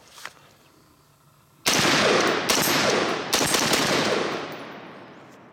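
An HM Defense CommanderMB5 rifle fires outdoors, with a sharp loud onset and then three closely spaced shots whose echoes ring out and decay slowly, heard alone.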